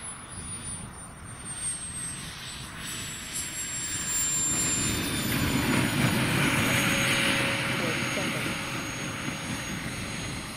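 A Kingtech 140 turbine on a Krill Avanti 2.2 m RC sports jet holding about two-thirds throttle at a model flying club, a steady broadband roar with a high whine that swells and eases as it passes, heard from a distance.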